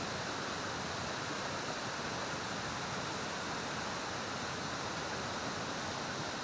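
Huai Kaeo waterfall in Thailand roars as a steady, dense wash of falling water, loud and unbroken throughout with no voices over it.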